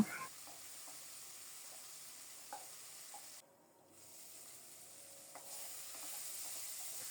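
Yardlong beans and green chilies sizzle quietly in a pan with a soft steady fry hiss, broken by a few light scrapes and knocks of stirring and a brief lull midway.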